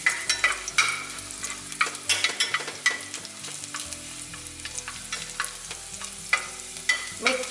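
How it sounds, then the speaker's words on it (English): Garlic fries in a generous amount of hot oil, sizzling steadily while a utensil stirs and scrapes the pan in irregular strokes, close and clear, with no talk. "Put garlic on and stir up"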